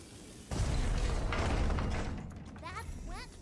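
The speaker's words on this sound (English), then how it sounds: "Keep watch while I prepare the explosives. This should be the last barrier in our way." Prepared explosives detonate during a video game raid: a sudden loud blast erupts, roars for over a second, then decays into rumbling debris, with short chirping game effects near the end.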